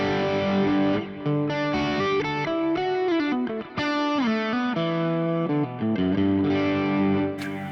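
A Carol Ann OD2 guitar amp is driven into dirty, overdriven gain, giving a continuous stream of loud, saturated distorted guitar notes and chords with sustained, fizzy harmonics and short breaks between phrases.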